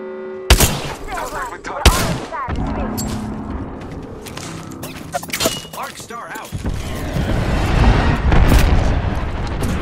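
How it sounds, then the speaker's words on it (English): Gunshots and explosive booms ring out during an Apex Legends match, with sharp loud reports near the start and a dense, rising rumble of action later on, under occasional game voice lines. "Open fire on the enemy."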